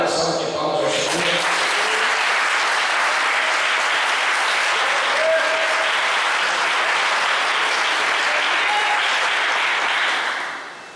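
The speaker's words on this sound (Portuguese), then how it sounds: "Você pode dar uma linda salva de palmas ao Senhor." A church congregation breaks into sustained applause during a Portuguese-language worship service, a thick, even roar of many hands clapping that builds quickly after a brief spoken lead-in and holds strongly before trailing off at the end.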